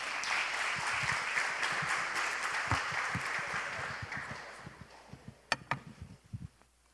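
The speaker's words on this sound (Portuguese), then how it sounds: "Uma salva de palmas para os anjos." Audience applause at a Sunday-morning church camp service, a dense wash of clapping that holds steady and then thins into scattered individual claps near the end.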